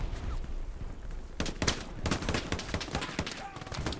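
Gunfire in the World War II shooter Hell Let Loose during a competitive match, sharp distant-to-mid shots and short bursts crackling irregularly after a quieter start, layered over game ambience.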